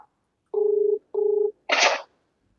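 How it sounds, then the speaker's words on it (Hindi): A phone number being dialed, with two steady touch-tone beeps followed by a short noisy burst, clean and close with no talk. "एक फोन मिला रहे हैं, मिलाइए सर।"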